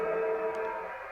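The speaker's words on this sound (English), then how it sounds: "Just waiting for the opening siren now." A steady, droning opening siren in an Australian football video game, Gold Coast Suns vs Collingwood, holds a sustained tone, loud at first and easing slightly as it continues, with no speech.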